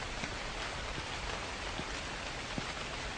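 Rain falling in a convenience store video game, a steady dense hiss of drops on surfaces with a few soft louder taps, constant and even throughout with no voices.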